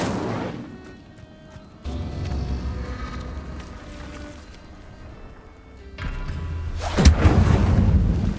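Incendio fire spell in Hogwarts Legacy bursts with a sudden loud fiery whoosh near the end, preceded by low rumbling ambience and a muffled thud partway through.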